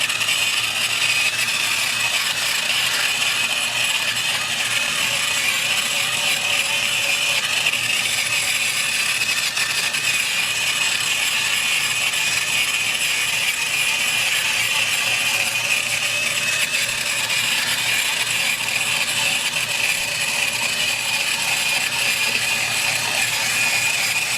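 Sun Joe 24-volt cordless cultivator tiller digging into mulched garden soil, a continuous high electric motor whine with gritty churning and rattling tines, close and steady throughout with no speech.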